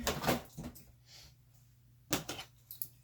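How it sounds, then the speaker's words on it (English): A drawer of a new supply cabinet in a crafting workspace slides open and shuts, heard as a few soft, close scraping bumps separated by near silence. "Let me put my deco mesh in the drawer here."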